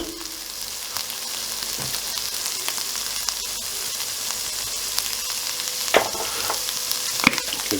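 Pork sizzles and fries steadily in a pan with a constant crackling hiss, broken by a few sharper pops and stirring clatters, heard close up with no talk.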